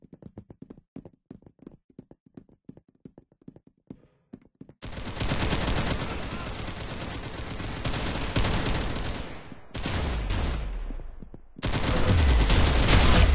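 Video game gunfire starts as a rapid run of single shots, then breaks into loud, sustained automatic bursts with short gaps between them.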